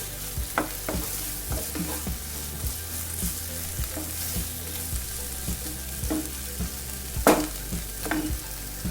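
Chicken handi masala with curry masala powder being stirred in a pan, a steady sizzle under regular scraping spoon strokes and occasional louder clanks, close and alone without talking.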